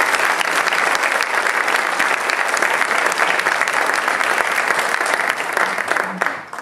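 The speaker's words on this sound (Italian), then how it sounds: "e agli arrangiamenti del maestro Pino Melfi, al quale io dedicherei un applauso." An audience applauds loudly and steadily, a dense wash of clapping that holds for several seconds before tapering off at the end.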